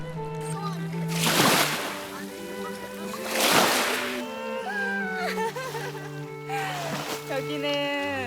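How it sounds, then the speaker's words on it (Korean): Feet dip into a cold lake below a castle in Switzerland, making three soft splashing surges spaced a couple of seconds apart, under people talking. "성 아래로 내려가 차가운 호수에 발을 담가 봅니다"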